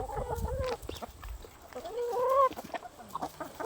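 Hungry hens cluck and chatter nearby in short, uneven calls, with some rustling and shuffling around them.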